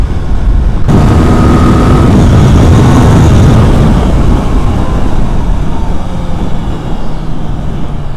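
A Triumph Daytona 660 motorcycle accelerates hard, giving a loud, continuous roar dominated by wind buffeting that swells after a sudden start and stays heavy throughout.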